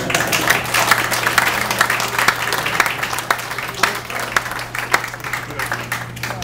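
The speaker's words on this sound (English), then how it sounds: "If Bevan was going to clap, I think you should." Audience applause at a mayor's budget announcement, a steady dense wash of clapping from a crowd lasting several seconds, with a constant low hum underneath.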